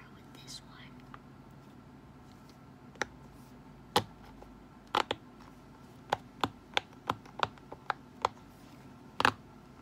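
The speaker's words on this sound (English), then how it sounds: "you'll see most of my different Poppets and you'll hear the popping ASMR" Silicone Pop It fidget toys are pressed one bubble at a time, giving sharp, close popping clicks spaced irregularly, some in quick pairs, over a soft whispered voice and quiet background.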